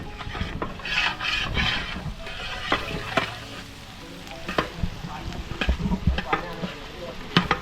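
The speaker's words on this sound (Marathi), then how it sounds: "खडा मसाला आहे तो आता फ्राय होतो तेलामध्ये" Whole spices with bay leaf sizzle and crackle steadily in hot oil, with scraping stirs and small pops throughout, for a Konkan-style mutton feast.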